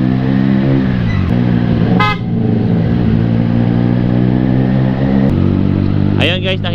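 Big bike motorcycle horn tested at night while the engine runs with a loud steady hum, with two short honks, one near the middle and one near the end, each brief and sharp over the engine.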